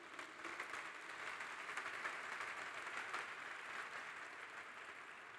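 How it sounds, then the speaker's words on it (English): A conference audience at a closing plenary ceremony applauds, a continuous, even roar of many people clapping that holds steady for several seconds without speech. "And let's give them another round of applause."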